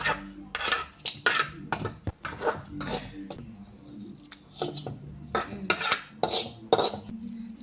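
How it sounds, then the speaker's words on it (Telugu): Gongura leaves and green chilies are pounded in a stone mortar for a gongura chutney, with repeated hard knocks and clattering strikes in an irregular rhythm, close and fairly loud. "పుండుకూర అంతా వేసేసుకొని దంచుకోవాలి"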